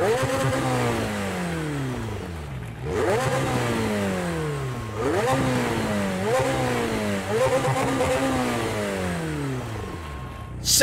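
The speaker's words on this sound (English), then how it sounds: "I'm going to shut up right now and let you guys hear the McLaren in all its glory" McLaren 720S engine in a racing video game, revving hard through repeated rising sweeps and gear shifts with crackling, loud and continuous, no talking.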